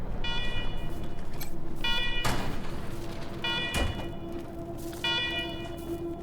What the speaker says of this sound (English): Alarm, alarm, alarm, I hate alarm.